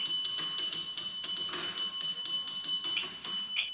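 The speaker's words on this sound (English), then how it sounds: "Did you hear my bell?" A small bell is struck repeatedly in a quick, roughly even rhythm, each bright ring overlapping the last, close and clear with no talking.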